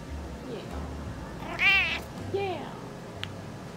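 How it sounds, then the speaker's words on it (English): An older diabetic male pet cat meows twice up close, first a long rising-and-falling cry and then a shorter, lower one, over quiet room background. "But this one's just a lover boy. He is my older cat."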